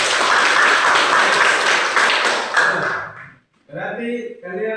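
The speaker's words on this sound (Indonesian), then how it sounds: "Oke, tepuk tangan." Children in a classroom clap their hands together in a dense burst of applause lasting about three seconds, which stops abruptly before a voice begins speaking.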